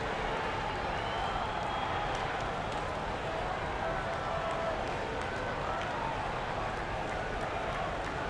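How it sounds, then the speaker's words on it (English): In the NBA 2K20 basketball video game, during a WNBA match between the Atlanta Dream and Dallas Wings, the home arena crowd roars in a dense, steady wash of cheering that holds loud and unbroken throughout. "this home crowd has enjoyed all of it"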